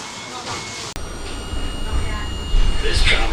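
Blackpool tram running along the line toward Starr Gate, a steady low rumble and rolling rail noise that builds louder near the end, with a brief sharp break early on and no talk.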